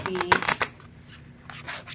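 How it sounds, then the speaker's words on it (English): A square Soul Cards deck being rifle shuffled by hand, a burst of riffling card flutter followed by a quieter pause and a second softer riffle, close and clear with no voice. "let's see if I can rifle shuffle this"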